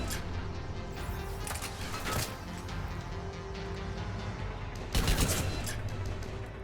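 Burst rifle fire from Mass Effect 3 Legendary Edition, with repeated quick volleys over a constant low combat hum; two louder bursts stand out, roughly two seconds and five seconds in.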